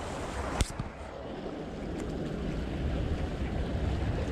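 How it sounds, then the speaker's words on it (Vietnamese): Salty sea waves wash and spray onto a French shoreline amid gusting wind, a broad rushing surge that swells louder toward the end after a sharp splash early on. "Sóng mặn quá nó tạt có thể là ướt giày luôn á."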